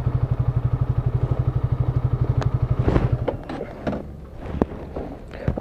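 A motorcycle engine idles with a steady, throbbing pulse as it rolls into a spot between two parked bikes, then cuts off and leaves scattered clatter and shuffling nearby.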